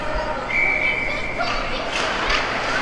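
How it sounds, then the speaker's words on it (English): Referee's whistle at a KC Mavs versus Waterloo Hawks ice hockey game, one sustained shrill blast lasting about a second over crowd murmur and arena noise, with a few thuds afterward. "played it just as the whistle blows"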